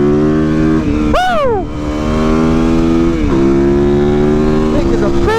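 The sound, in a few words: motorcycle engine revving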